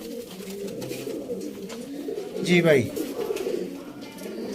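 Kabootar pigeons kept for sale in Sialkot coo in a low steady murmur throughout, with someone talking briefly over the birds.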